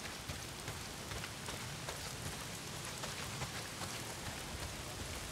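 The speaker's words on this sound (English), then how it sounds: "Well, not if it's pissing down rain." Heavy rain pours down in the video game Days Gone, a dense, steady hiss with scattered raindrop patter that continues unbroken throughout, with no voices over it.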